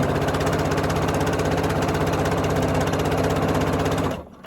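A sewing machine stitching a seam on a fleece hat: a loud, close, steady motor drone with rapid pulsing needle strokes, running evenly before cutting off abruptly near the end.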